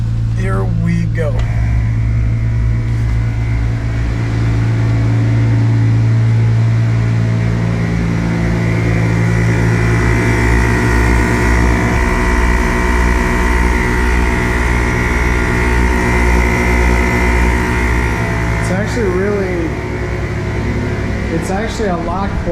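A steady mechanical drone of a knock-off ARB twin air compressor's motor and fan running continuously, loud and close, with a slight rise in pitch toward the end.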